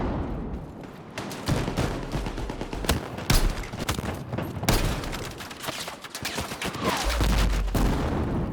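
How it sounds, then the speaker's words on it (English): Battlefield 6 gunfire, dense rapid shots and bursts cracking near and far over a constant battle din, with distant booms toward the end and no clear speech. "Where are these shots coming from?"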